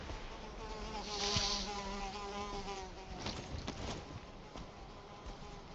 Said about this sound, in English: I heard a buzz.